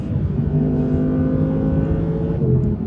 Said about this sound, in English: driving the 22 R8 rear-wheel drive